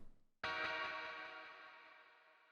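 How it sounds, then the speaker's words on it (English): A bright, distorted guitar chord stabs in sharply and then rings out, smeared by long delay repeats and reverb that slowly fade. "This guitar stab though, this is what really adds some feel to the song."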